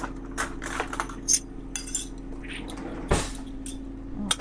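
Metal spoons clinking and rattling as they are fetched from a kitchen drawer for banana muffin batter, a few light scattered clinks and a drawer sound, close by with no talking.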